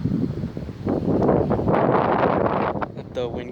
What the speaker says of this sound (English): Let the wind calm down, I'll talk again.